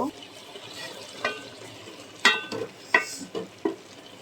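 Thinly sliced tender bottle gourd is sautéed in a pan, a soft frying hiss punctuated by several sharp scraping stirs and clinks of a spatula, close and fairly loud.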